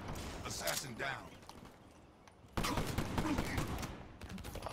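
Shotgun blasts in a Call of Duty Black Ops 3 gun game match crack in two loud bursts separated by a brief lull, mixed with a player's talk.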